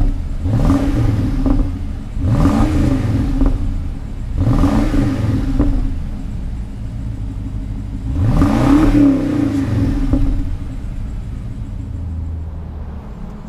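A BMW X5 engine revs hard four times in a row, each loud burst of throaty exhaust rising and falling back to a rumbling idle.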